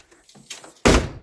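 A sticking door at a camp slams once with a sharp, close, loud thud after a few faint scrapes and rattles.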